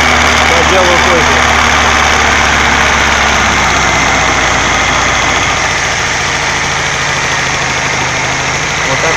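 A VAZ-1111 Oka car engine runs after an ignition timing adjustment, a loud, close, steady drone with a low throb that settles slightly lower partway through.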